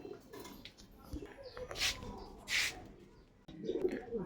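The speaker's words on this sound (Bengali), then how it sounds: "চলো পায়রা দুটোকে ছেড়ে দেখিয়ে দিই এই হচ্ছে কালাঙ্কার পেয়ার" A pair of Kalanka pigeons gives soft, fairly close coos and rustles, with some low, muffled background sounds.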